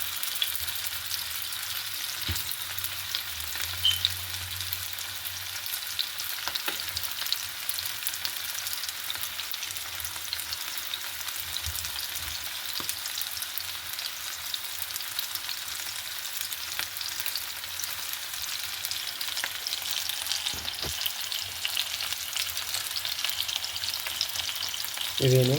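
Bone-in chicken pieces frying in a pan for chicken kondattam, a continuous close hiss and crackle of oil holding steady throughout, with a few faint clinks and knocks and no voice.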